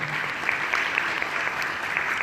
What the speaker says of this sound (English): yes, please give a round of applause